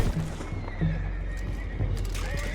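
Horses in Red Dead Redemption 2 neigh and whinny amid hoof clatter, a couple of shrill calls over a busy background, fairly close.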